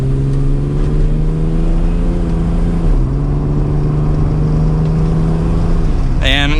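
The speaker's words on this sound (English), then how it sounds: "But here we go with one last acceleration for today." 1996 Acura NSX-T with a 5-speed manual accelerating hard, a loud in-cabin engine drone rising steadily in pitch, dipping briefly at a gear change, then climbing again before easing off.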